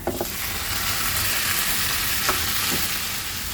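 Tomatoes dropped into a hot frying pan for shakshuka, a loud, close, steady sizzle with a few stirring scrapes and clicks, no talking.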